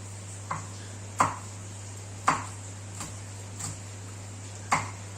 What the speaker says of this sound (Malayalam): പച്ചമുളക് ചെറുതായിട്ട് അരിയാം